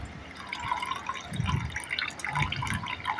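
Water from washed rice and mung beans being drained off in a kitchen, a steady trickle and splash of liquid with intermittent drips, close and moderately loud.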